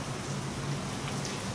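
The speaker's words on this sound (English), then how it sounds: "It's kind of rainy here." Steady rain falling outside an open door in the Philippines, an even, continuous hiss of drops on surfaces with no pauses and no voices.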